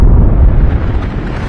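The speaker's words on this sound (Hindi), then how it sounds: "23 नवंबर को इथियोपिया में एक भयानक वोल्केनिक एक्सप्लोजन हुआ।" Eruption of the Hayli Gubbi volcano in Ethiopia, a loud, deep rumbling blast that roars briefly and fades slightly.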